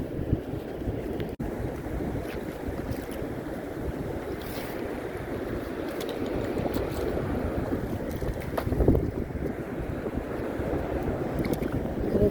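Strong wind blowing on the beach by Santa Monica Pier, a continuous loud rushing roar buffeting the microphone, with surf noise mixed in and no talking.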